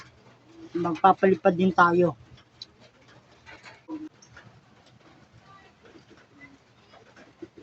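Pigeons kept in a backyard loft coo close by in a loud cluster of rolling, throaty calls, then the sound falls quiet and someone talks softly over faint background noise.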